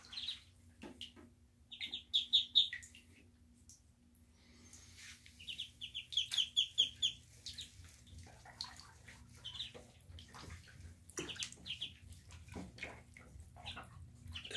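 Muscovy ducklings peep in high, rapid bursts of several calls, with quieter chirps scattered throughout over a steady low background hum.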